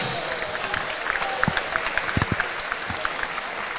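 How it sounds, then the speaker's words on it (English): Audience at a live fight event bursts into applause, a dense wash of clapping with a few sharper nearby claps standing out, sustained for a few seconds. "Ladies and gentlemen, please, a big round of applause for Luke Thomas."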